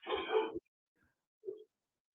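A dog gives a single loud, close bark, then a shorter, fainter woof a second later, with silence around both.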